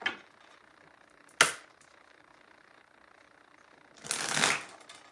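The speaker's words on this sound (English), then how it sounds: "Come on, let's shuffle." Two quick bursts of playing cards being riffled and shuffled, a short snap early on and a longer, louder riffle near the end, with quiet room tone between.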